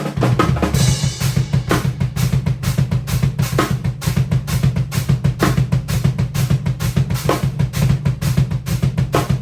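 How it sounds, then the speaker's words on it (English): Instrument played through a modulation effect in a practice session, a steady pulsing rhythmic pattern with fast regular swells and a low droning body, loud and continuous with no talking. "But I found this cool modulation which sounds like this."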